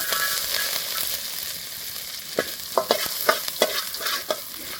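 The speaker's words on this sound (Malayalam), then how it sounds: "ഇത്ര പിടി വെളുത്തുള്ളി ഇട്ട് കൊടുക്കുക." Garlic frying in very hot oil in a pan for Singapore rice, a steady sizzle with a cluster of sharp stirring scrapes and spatters toward the end, close and fairly loud, no voices.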